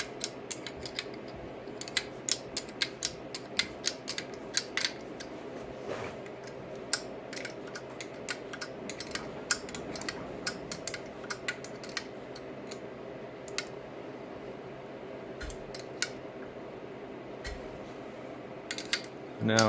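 Nuts are tightened down on a BMW /2 magneto, giving quiet, close, irregular metallic clicks and ticks of tool work over a low hum.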